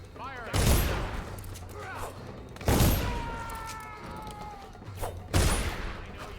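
Guards firing guns in the stealth video game Dishonored: three loud, sharp bursts spaced a couple of seconds apart, each ringing off over a low rumble, with a voice speaking between the shots.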